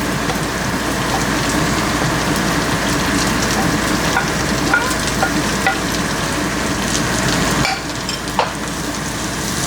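Chopped onion sizzles in hot oil as the base for an eggplant and shrimp curry, giving a steady, dense crackle and hiss close up with occasional stirring clicks and a slight drop near the end.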